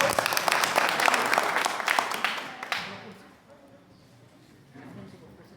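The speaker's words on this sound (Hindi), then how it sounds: "पंकज सर के लिए जोरदार ताली हो।" A crowd gives loud applause as a speaker named Pankaj comes on stage at a motivational event. The dense clapping lasts about three seconds, then fades to a low murmur with faint voices.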